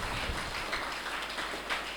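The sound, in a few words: congregation applauding in church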